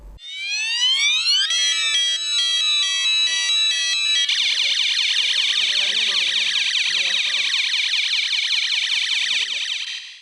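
Electronic elephant alarm siren installed on a forest boundary in Mullurkara, Kerala to deter wild elephants, blaring loud and continuous with rising tones shifting into a warbling wail, while faint voices murmur underneath.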